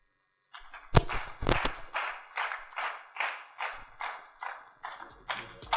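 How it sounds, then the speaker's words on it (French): Audience at a live art and choral event claps in unison, a steady rhythmic beat of about two claps per second, loud and close, following a brief opening silence with no talk. "Vous n'êtes pas obligé d'applaudir en rythme tout le temps."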